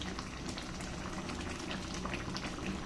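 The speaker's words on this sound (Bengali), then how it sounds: "দেখুন, খিচুড়িটা কত সুন্দর ফুটতে শুরু করে দিয়েছে।" Khichuri made with polao rice bubbles steadily in a pot, a soft continuous boil of small pops and gurgles heard close but faint.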